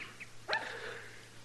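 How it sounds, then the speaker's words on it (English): A small old dog out in the street gives one short, sharp bark at mid-distance, heard alone against a quiet outdoor background. "Hey, look at that little old dog out in the street there."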